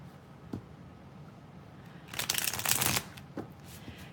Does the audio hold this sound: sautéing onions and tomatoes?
no